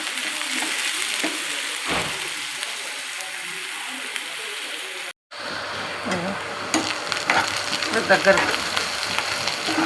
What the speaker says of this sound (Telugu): చూడండి, ఎర్రగా మంచిగా గోలిస్తున్నా చూడండి